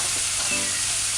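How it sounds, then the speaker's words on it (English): Seasoning sautés in a pot on a stovetop with a loud, steady sizzle and hiss close by, continuous with no pauses or voices. "after about 2 minutes of cooking, of sauteing the seasoning"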